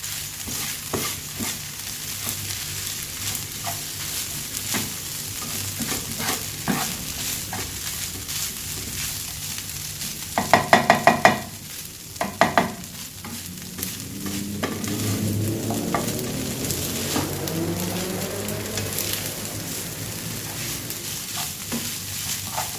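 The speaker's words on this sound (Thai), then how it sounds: "อันนี้เราก็ผัดให้แห้งในระดับหนึ่งนะครับ" Rice with shrimp paste chili dip being stir-fried in a pan over low heat, a steady soft sizzle with a spatula scraping and stirring, including a brief burst of sharper clattering strokes midway, with no talk.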